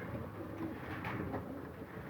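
Pigeons coo in a loft of young red birds, soft low throaty calls rolling along continuously and close by, with no talk over them.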